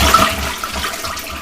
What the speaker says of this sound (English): That was an aggressively loud flush